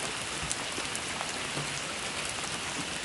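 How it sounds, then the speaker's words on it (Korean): Cool rain falls steadily in a dense, even hiss of drops striking a surface, with a few slightly louder splats standing out, constant and immersive with no voices. "이제 나에게 동비가 내린다. 나는 씻겨진다. 시원한 비가 나의 고통을 씻겨낸다."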